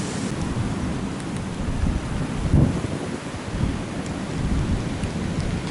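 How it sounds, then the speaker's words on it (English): Strong, cold 40 mph winds in Kansas buffet the microphone in a steady low roar, with gusts swelling and easing throughout, and no voices. "Terribly windy."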